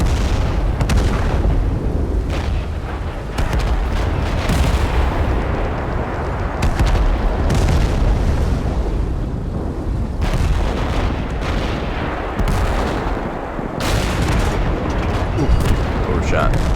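A tank cannon fires repeatedly in the war game Total Conflict: Resistance, and heavy booms and a rumbling engine run throughout as a voice talks over the noise.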